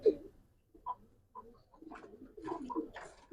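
Silver Giribaz pigeons give soft, short coos in irregular bursts, faint and close, with brief quiet gaps between the calls.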